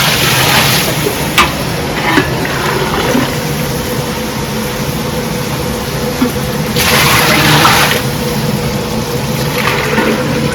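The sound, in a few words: water being poured into a cooking pot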